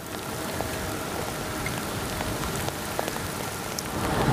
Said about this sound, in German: 10 Kilometer hinter Goldberg, bergauf, Regen.